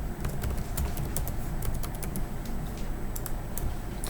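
Quick, irregular clicks of fingers typing a password on a computer keyboard, close and fairly soft, in bursts of keystrokes with short pauses.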